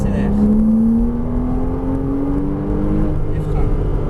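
A Porsche Cayman S with 295 hp accelerates hard, heard from inside. The engine note climbs steadily and loudly over a few seconds under road and wind roar.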